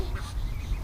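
A duck held for treatment lets out short, harsh honking calls up close, rough and nasal, over handling noise.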